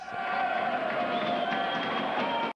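A large crowd of about 3,000 protesters gathered in front of City Hall makes a steady, dense roar of voices and cheering, sounding broad and somewhat distant throughout.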